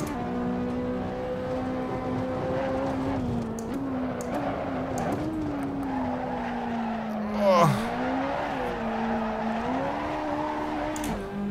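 A Ferrari 458 Italia in the Assetto Corsa racing game drifts on semi-slick tyres around the Nordschleife, its engine droning steadily and shifting pitch, with a brief sharp tyre squeal near the end and a voice talking over it.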